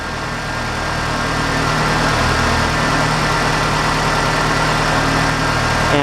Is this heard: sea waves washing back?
no